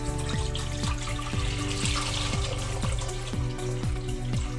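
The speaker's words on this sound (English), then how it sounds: "I'm gonna pour in cold water." Cold water pours steadily into a pot of hard-boiled eggs with a continuous gurgling splash and rhythmic glugging, close and fairly loud throughout.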